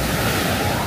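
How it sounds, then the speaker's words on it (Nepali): Water surges at a shoreline as waves break and wash in, a loud, broad, continuous rushing roar close to the microphone with some wind buffeting. "पानीको आवाज आइरहेछ कि"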